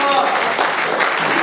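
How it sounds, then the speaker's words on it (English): Audience applause for a cook at a Durga Puja celebration, a short loud burst of clapping that runs throughout, with voices mixed into the crowd. "So please give a big round of applause to Sujanda."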